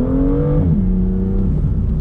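Tuned BMW M2 with roughly 40 extra horsepower and a modified exhaust, its engine revving loud and close with a strong growling tone that drops in pitch midway and settles into a rumbling idle.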